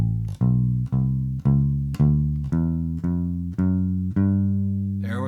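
A bass guitar plays a walking line in G using an up-and-up 2-5 pattern, nine evenly spaced plucked notes stepping upward, each decaying before the next, close and clear with no talking.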